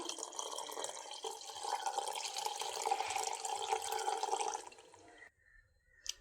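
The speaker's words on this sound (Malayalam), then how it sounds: "ഇതിലേക്കിനി തണുത്ത പാല് 1 കപ്പ് ഒഴിച്ചു കൊടുക്കാം." One cup of cold milk pours into blended mango in a bowl, a soft continuous liquid stream lasting several seconds before it stops, followed by a faint clink. No voices are heard.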